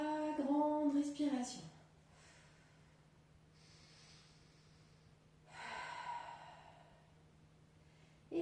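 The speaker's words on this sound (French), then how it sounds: "on inspire pour 3 grandes respirations" Deep breaths during a morning stretching exercise: a voice speaks, then a long audible inhale and exhale, soft and close, with quiet pauses between.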